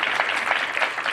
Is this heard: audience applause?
yes